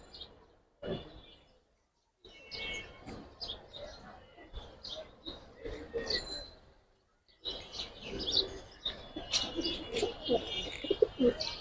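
A male Giribaz pigeon held in the hand gives soft, repeated cooing calls in short bursts with brief pauses, close by, with faint voices and movement around it.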